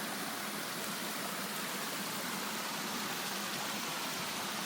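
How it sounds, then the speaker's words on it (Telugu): Small rain-fed waterfalls running like streams along a path give a steady, even rush of flowing water that holds unchanged throughout at moderate loudness, with no voices. "దారిలో ఇక్కడ చూసిన చిన్న చిన్న వాటర్ ఫాల్స్ కాలువల్లాగా ఉన్నాయన్నమాట."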